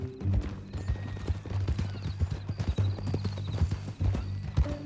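Horse hooves clip-clop steadily in Red Dead Redemption 2, a brisk rhythmic run of hoof strikes on the ground with a low ambient drone beneath and no talk.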